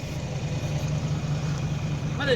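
A vehicle engine running at a steady close idle with a low rumbling throb, briefly joined by a higher tone at the very end.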